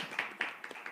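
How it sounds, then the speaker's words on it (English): A handful of audience members clapping at a student government election debate, a few sparse, distinct claps in quick succession, faint and close-miked in a quiet room. "And then, clap."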